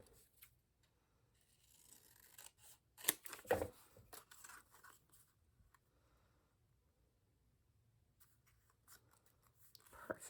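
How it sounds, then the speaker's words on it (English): Scissors trim paper for a craft kit in a quiet room, a few faint, close snips and rustles clustered together, then near silence before light handling noise at the end. "I want to trim a little more off the top."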